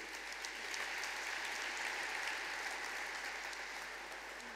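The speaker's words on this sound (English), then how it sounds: "Round of applause for the achievement." Graduation ceremony audience giving sustained applause, a continuous, even roar of clapping heard from within a large hall.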